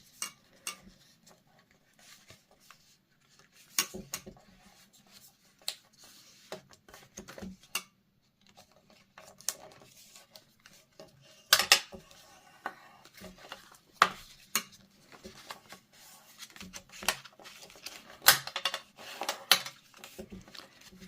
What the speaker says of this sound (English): And using a bone folder is really helpful here. And you want to fold both ways.